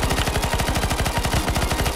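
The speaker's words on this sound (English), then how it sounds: "Keep shooting the flies, shoot the small flies" Rapid automatic gunfire in the CS:GO zombie escape game while shooting at flies, a dense, loud, steady burst of rhythmic shots with no pause.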